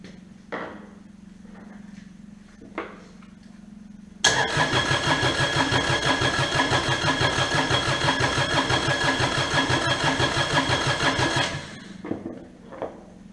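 A Kubota D722 diesel engine, just fitted with a pump, cranks briefly, then catches and runs with a loud, rapid, rough chugging for several seconds before cutting out abruptly.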